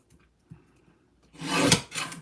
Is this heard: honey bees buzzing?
no